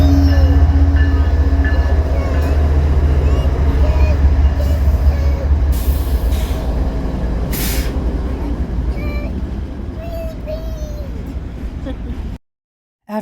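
A train rumbles close by with a heavy low roar, squealing wheels and hissing brakes, slowly easing off, before cutting to silence; a voice and adults are faintly heard in the background.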